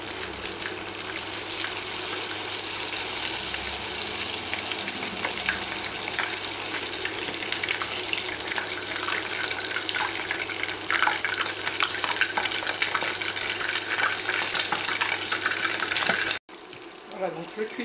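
Goat-cheese brick-pastry samosas fry in hot oil in a pan, a loud continuous sizzle and crackle that fills the whole stretch before cutting off briefly near the end.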